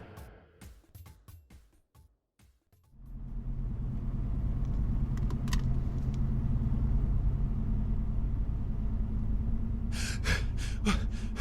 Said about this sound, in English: now we go to a car containing Dean and Nell motoring carefully down a snowy back road on Danger North, the final chapter.